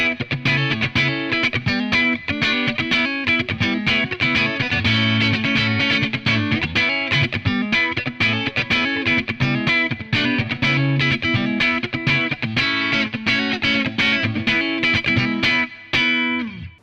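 Electric guitar played through a Tubesteader Beekeeper preamp on its clean channel with boosted highs and lows, giving a snappy, bright chordal riff that rings continuously and loud with no talking.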